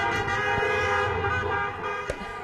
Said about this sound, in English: You can hear, of course, all of the cars honking their horns